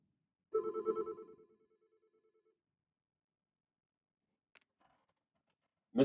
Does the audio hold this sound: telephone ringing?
yes